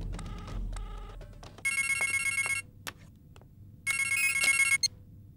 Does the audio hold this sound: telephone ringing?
yes